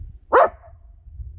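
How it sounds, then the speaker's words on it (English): A dog named Pickles lets out a single sharp bark near a cabin in the woods, loud and close, followed by quiet outdoor stillness. "Who are you barking at?"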